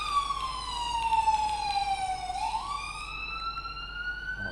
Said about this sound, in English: Why are the sirens so loud?